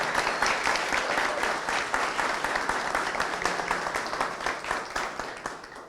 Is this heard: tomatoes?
no